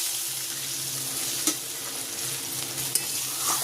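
Spice paste frying in oil in a pan, a steady close sizzle with two sharp clicks of a utensil against the pan and faint stirring underneath.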